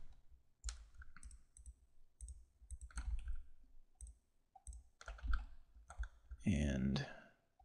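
Mouse clicks while selecting and deleting faces on a dragon model in Blender: a steady series of sharp, close clicks, some in quick pairs, with a louder burst of handling noise near the end.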